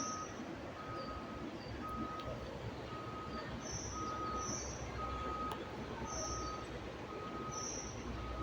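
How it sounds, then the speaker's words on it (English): A dump truck's reversing alarm at a construction site at Belmont Park in New York City, steady evenly spaced beeps heard at a distance over a constant outdoor rumble of machinery. "The dump truck."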